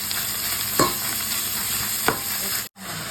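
Ingredients dry-roasted in a pan, a steady rustling sizzle with two sharp scrapes of stirring, close and fairly loud, cutting off abruptly near the end.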